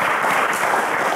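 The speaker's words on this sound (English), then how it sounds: "Ladies and gentlemen, a round of applause for Raphael." Steady applause from a crowd at a televised quiz show, dense clapping at an even level throughout with no pauses.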